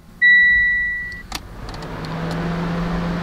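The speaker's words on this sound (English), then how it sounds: "So the vehicle fans are turning on." A car's cooling fans switch on with the ignition on, rising to a steady whirring hum after a two-tone electronic chime and a click, close and moderately loud.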